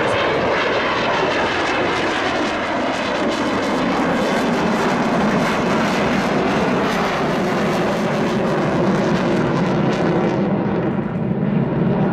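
A fixed-wing airplane flies and banks wing to wing at an air show, its engine roaring loud and steady throughout, with a broad rushing drone that swells and fades slightly as the aircraft passes.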